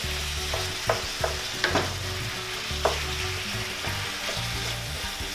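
Empanada filling seasoned with salt and pepper frying in a pan, a continuous close sizzle with a low hum under it and a handful of light utensil scrapes and taps as it is stirred.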